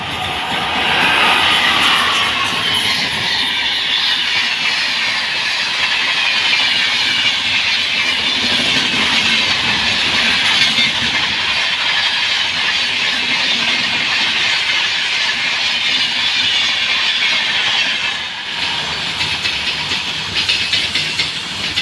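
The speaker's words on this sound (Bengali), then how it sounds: "কয়লা ভর্তি ওয়াগনের সাথে মাদার কলকাতার রেস" Coal-loaded freight wagons and the 19608 Madar–Kolkata express passing on the Rajbandh rail bridge: a loud, continuous rumble with hiss and wheel clatter for over twenty seconds, easing briefly near the end.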